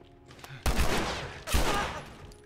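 Gunfire in The Last of Us: two loud, close shots about a second apart, each a sharp crack followed by a rumbling echoing tail, with faint quieter sounds before the first.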